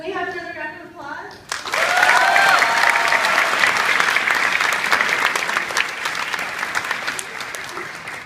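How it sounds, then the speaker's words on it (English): Audience applause at a MEChA high school conference at SDSU, loud crowd clapping bursting in after a voice and holding strong, with some cheering, before gradually thinning. "Can we have another round of applause?"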